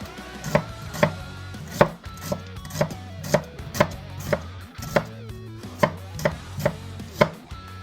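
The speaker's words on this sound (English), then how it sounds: "little under half a red onion. But anyway, just slice it up" A knife slices a red onion on a board in a steady run of about a dozen crisp, evenly spaced chops, close and distinct, with no voices.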